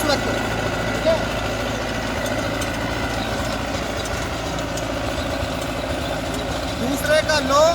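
A Farmtrac 6055T20 tractor engine runs steadily in second low gear with a rotavator, a close, continuous throbbing drone with a faint knocking character, holding an even pace throughout.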